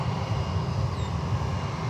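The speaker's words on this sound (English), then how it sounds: "there comes JetBlue" A JetBlue airliner in special livery passes at Fort Lauderdale–Hollywood International Airport, a steady, loud broadband engine roar holding constant throughout with no break.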